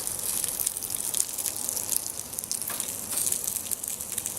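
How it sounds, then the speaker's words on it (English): Bacon sizzles on a grill set to low heat in a mess kit pan, making a steady, fairly faint crackling hiss throughout, with no talking. "I got the grill on low. Just don't want to cook the bacon too fast."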